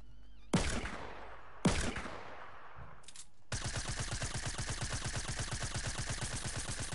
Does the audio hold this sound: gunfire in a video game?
yes